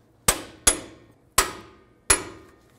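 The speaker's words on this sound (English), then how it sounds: "Torque these bolts to 203 foot-pounds." A torque wrench tightens brake bracket bolts to 203 foot-pounds on a Ford F-350 dually, giving four sharp metallic clicks spaced unevenly, each ringing briefly and decaying in a quiet shop.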